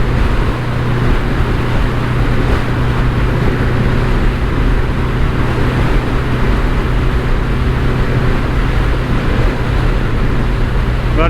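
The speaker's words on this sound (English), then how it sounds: "I like motorbikes that sound like motorbikes" A BMW K100LT motorcycle engine runs steadily and loudly throughout, a dense continuous rumble with wind noise and no pauses.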